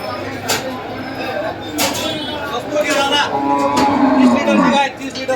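A dairy cow moos loudly a couple of times close by at a cattle market in Dhule, amid background chatter and voices of a busy crowd.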